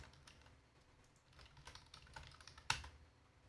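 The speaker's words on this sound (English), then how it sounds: "I'm gonna type it in the chat." Quick bursts of typing on a computer keyboard, soft close clicks in an irregular rhythm ending with one sharper key strike, no talking.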